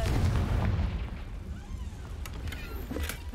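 A Confringo blasting spell in Hogwarts Legacy lets off a heavy rumbling explosion at the start, then fades into a low roar with a few lighter crackling hits toward the end.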